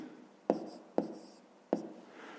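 Handwritten answer for a fifth-grade maths fraction exercise, three crisp pen strokes or taps on paper landing close and distinct about half a second apart, with no talking.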